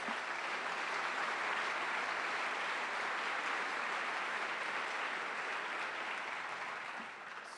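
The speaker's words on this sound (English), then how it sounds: "let's give them a big round of applause" Sustained audience applause fills a hall at a public talk on surveillance, privacy and intelligence reform. It is a dense, steady clapping that stays loud throughout and thins slightly at the very end, with no talk over it.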